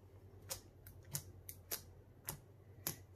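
Metallic green peppermint-scented slime gives off a series of sharp, crisp pops and crackles, about seven quick snaps spaced irregularly over a quiet background.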